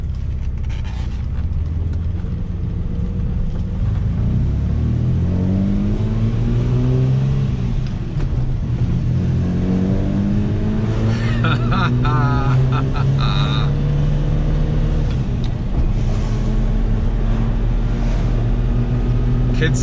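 A Lamborghini LM002 engine pulls on the road, its low, steady drone rising and falling in pitch as the truck accelerates and shifts, loud and continuous throughout.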